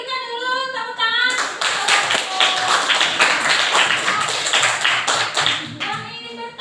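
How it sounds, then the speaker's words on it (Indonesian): A classroom audience claps for a student group that has just finished presenting. A steady burst of many hands runs for about four and a half seconds, with a voice talking just before and after it. "Kita berikan dulu tepuk tangan."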